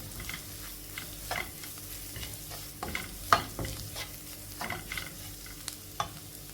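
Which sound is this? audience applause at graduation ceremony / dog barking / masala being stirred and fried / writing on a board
masala being stirred and fried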